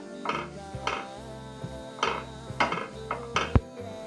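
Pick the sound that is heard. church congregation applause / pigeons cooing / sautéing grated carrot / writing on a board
sautéing grated carrot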